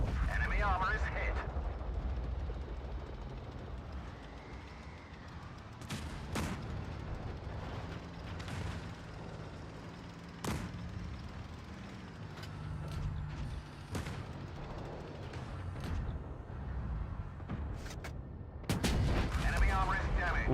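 Tank cannon fire in the game World of Tanks Blitz: several sharp, heavy shots spaced across the stretch over a constant low engine rumble and mechanical clanks, with game voice callouts heard in places.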